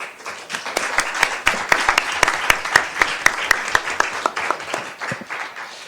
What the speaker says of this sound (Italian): consentitemi anche il nostro applauso